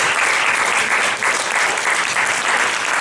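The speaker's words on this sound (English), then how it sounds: "can we give our panel a round of applause" Steady, dense applause from a conference audience thanking a panel, sustained and loud throughout with no pauses.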